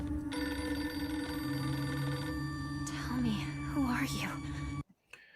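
Telephone ringing in a video game trailer, a steady electronic bell tone under whispery voices and eerie sliding effects, moderately loud before cutting out abruptly.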